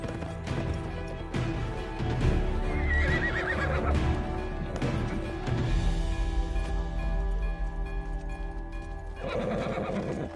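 A horse neighs and whinnies with clip-clopping hooves, loud and close, over a dense action-film soundtrack of music and crashing effects in a Hindi action movie.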